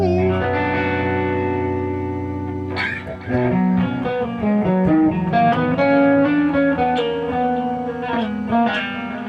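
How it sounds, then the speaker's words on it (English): Sustained electric guitar chords with a shimmering, octave-up reverb wash trailing behind, followed by picked melodic notes ringing into a lush ambient tail. "turn the shimmer on"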